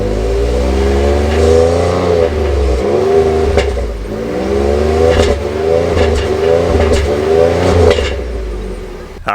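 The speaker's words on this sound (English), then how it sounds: "I just wanted to get a quick exhaust clip for you guys" Exhaust of a 2023 Ford F-150 PowerBoost Hybrid revving: a loud, close engine roar that rises and falls through several repeated revs, steady and continuous with no talk.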